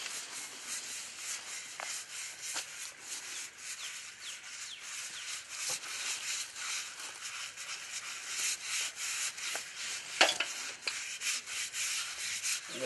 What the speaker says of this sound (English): And I'm going to take a brush to this.